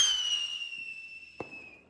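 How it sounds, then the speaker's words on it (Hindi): Fireworks and firecrackers going off during Bhai Dooj celebrations: high whistling rockets glide steadily and fade, and a single sharp firecracker bang cracks out partway through, fairly close. "बड़े पटाखे चल रहे हैं आगे पीछे"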